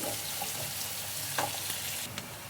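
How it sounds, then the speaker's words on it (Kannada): Onions frying in a pan for palak paneer gravy, a steady close sizzle with faint stirring scrapes and a brief louder clatter midway, no talking. "ಮತ್ತು ಗೋಲ್ಡನ್ ಬ್ರೌನ್ ಬರೋವರೆಗೂ ಸ್ವಲ್ಪ ಫ್ರೈ ಮಾಡ್ಕೊಳ್ಳಿ."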